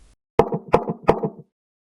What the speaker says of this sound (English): The knocks came again.